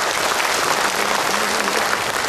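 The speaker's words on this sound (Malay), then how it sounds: "Satu tepukan gemuruh kepada semua perwakilan." Thunderous applause from cooperative delegates filling a hall at a national conference, a dense, loud, continuous roar of clapping that holds steady throughout.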